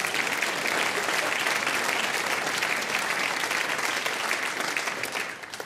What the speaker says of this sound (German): ja, klatschen Sie ruhig. Applaus